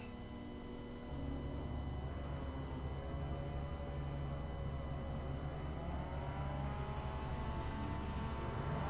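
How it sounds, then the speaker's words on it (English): Simulated MX-5 race car engines in iRacing idle and rev together on the grid before the start, a low steady drone that rises and swells after a second and holds, layered pitches blending into one sustained hum. "You can hear the engine start to harmonize."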